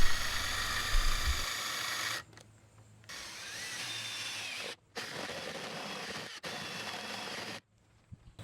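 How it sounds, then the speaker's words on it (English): A power drill bores a bolt hole through an RV door for a smart lock, whirring loudly in several sustained bursts separated by short pauses. "reuse your paper template to find the center of your bolt hole and drill it out"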